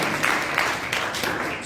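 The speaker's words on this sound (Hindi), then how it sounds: "तालियां बजा दो। ए ग्रेड हो, ए ग्रेड की तालियां कोई बजा सारे ग्रेड" A church congregation claps at a pastor's urging, a loud, continuous patter of many hands in a reverberant hall, rising in a few stronger bursts over its short span.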